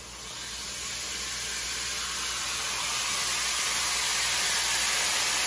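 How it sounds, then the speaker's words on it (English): Vinegar, about a quarter cup, poured into a hot frying pan while frying freshly caught fish, giving a steady, loud sizzling hiss that builds slightly and holds for several seconds with no talking. "About a quarter cup of vinegar into my frying pan."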